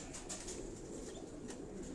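A flock of mixed-breed pigeons on a Karachi rooftop breeding loft keeps up a soft, steady cooing, with brief bursts of flapping wings cutting through the murmur.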